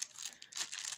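A thin plastic dental dam crinkles as it is handled, giving a brief, quiet rustle up close.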